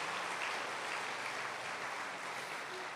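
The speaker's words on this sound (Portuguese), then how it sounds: "Aplauda o nome de Jesus nessa noite." A church congregation claps together at an evening service, a dense, even patter of many hands heard from a moderate distance, steady throughout with no talk.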